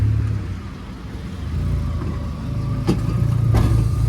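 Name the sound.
JDM car engine revving to VTEC limiter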